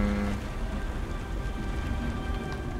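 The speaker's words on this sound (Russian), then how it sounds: "О, чёртов дождь. Он когда-нибудь перестанет идти?" Steady rain in the video game Beyond Two Souls, a soft continuous patter with no speech over it.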